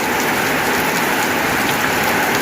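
Heavy monsoon rain falling in rural Thailand, a dense continuous hiss of drops pattering on surfaces, loud and unbroken throughout with no voices.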